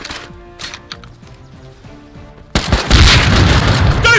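Gunfire in the survival game Rust: a few scattered shots over quiet early on, then from about two and a half seconds a loud, sustained barrage of rapid automatic fire with booming impacts.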